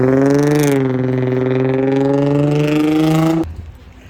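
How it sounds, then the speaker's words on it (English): A single car engine in street traffic holds a steady droning tone that dips slightly and then runs level before cutting off abruptly, leaving quiet background street noise. "the noise of the cars and the traffic, that's what I don't exactly like"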